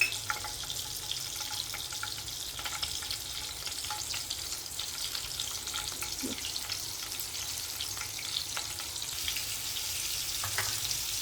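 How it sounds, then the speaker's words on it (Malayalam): Small onions and tomato sauté in a pan for a simple fish curry, giving a steady soft sizzle with occasional light stirring scrapes and no talking. "തേങ്ങ അരക്കാതെ ബാക്കി കുറച്ച് ഉള്ളിയും തക്കാളി വഴറ്റി വെക്കാം"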